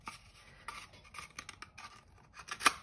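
Scissors snip open a cardboard or paper tube for a huggers craft: soft scattered snipping and rustling, faint and close, ending in one sharper cut.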